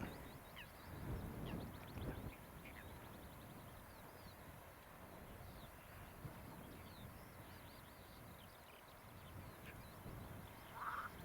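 Distant Hungarian marsh frogs croak in a rippling, continuous chorus outdoors near Faversham, Kent, faint and steady, with a few louder calls rising near the start and end.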